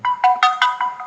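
Birdfy Smart Bird Bath Pro power-on chime, a short rising then falling electronic melody of about six bright tones, close and clear.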